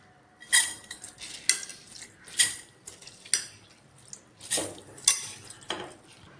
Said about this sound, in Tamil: ஊற வச்ச அரிசியை குக்கரில் போட்டுக்கலாங்க